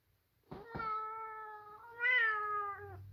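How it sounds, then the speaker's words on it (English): A house cat meows twice in close succession, a short chirp then a long sustained call rising in pitch, fairly near and clear against a quiet room with no speech. "Sorry, my cat's giving me a hard time."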